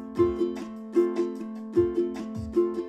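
A ukulele strummed in a down-up pattern at a slow, steady tempo, with short bright chord strokes in uneven pairs, close and fairly quiet with no voice.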